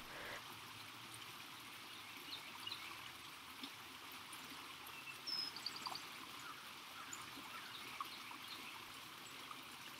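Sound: small stream with a little waterfall

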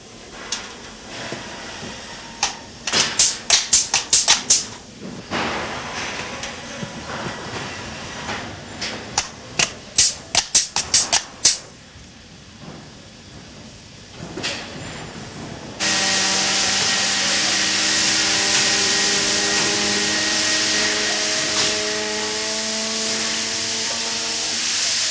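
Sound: pneumatic machine flanging LNG tank membrane tongue

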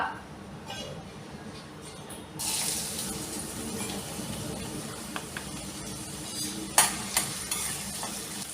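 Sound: onion frying in hot oil

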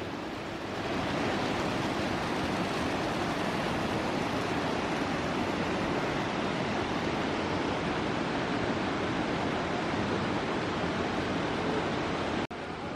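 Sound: waterfall and rushing water at Puerto Blest

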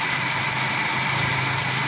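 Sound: Honda Grand Civic engine idling at low speed

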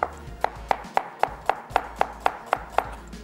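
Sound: slicing onions with a knife

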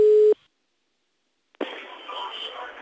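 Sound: telephone line tone at the start of a phone call

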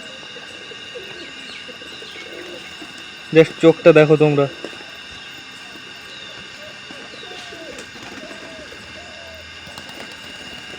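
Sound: high flyer pigeons cooing

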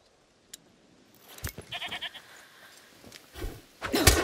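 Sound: goat bleating in the video game A Plague Tale: Requiem

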